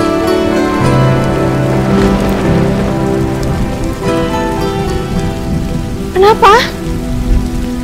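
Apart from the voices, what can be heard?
heavy rain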